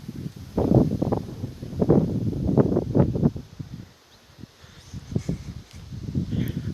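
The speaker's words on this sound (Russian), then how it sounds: "Примерно такой был ночью ветер, только немного сильнее." Strong gusting wind of about 20 m/s roars in buffeting waves against the microphone, with a brief lull in the middle before the gusts pick up again.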